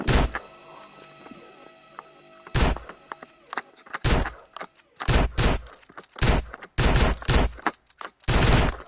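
Gunfire in Grand Theft Auto: San Andreas, a series of sharp, loud single shots from a weapon with infinite ammo, fired in an irregular rhythm with short gaps between bursts, close and punchy with brief rattling tails.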